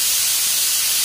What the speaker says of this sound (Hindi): और अब हमने इसकी निकाली स्टीम